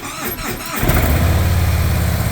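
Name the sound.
motorcycle engine starting with the start button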